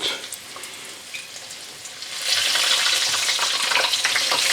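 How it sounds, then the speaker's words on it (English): Mushrooms frying in a deep fryer at around 180 degrees hiss and crackle with a dense, bright sizzle that grows louder and steadier partway through, close by and with no talk. "if we hear this one, yeah, then sort of the water breaks out of the mushrooms"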